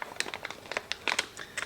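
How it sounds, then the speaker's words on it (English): A plastic storage bag from a hair clipper kit crinkles and rustles as it is handled and opened, a quick series of close, crisp crackles in irregular bursts. "I can figure out how to open the storage bag"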